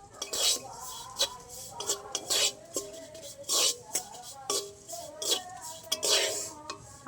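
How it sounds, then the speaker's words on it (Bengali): A metal spoon scrapes and clinks against a pan as flour is stirred and fried in ghee, in repeated rhythmic strokes close by, with faint voices in the background. "ময়দাটা একটু ভেজে নেবো ভালো করে ঘির সাথে"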